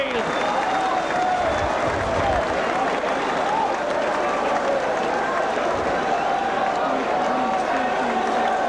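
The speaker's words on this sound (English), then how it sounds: "The crowd getting behind him now" A rugby league crowd roars and applauds continuously after a St Helens try against Wakefield, dense and loud throughout, with a commentator talking over the cheering.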